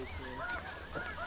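Geese honk repeatedly during a goose hunt over decoys, a dense overlapping chorus of many birds at moderate distance, continuous and fairly faint.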